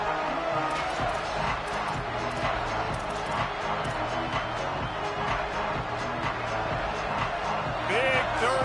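A stadium crowd at a Nebraska versus Washington college football game roars in a steady, dense wash of noise, with a commentator talking over it throughout.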